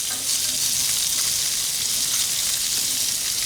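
French toast frying on a Blackstone griddle, a steady close sizzle and crackle of hot oil holding at even strength throughout with no voices.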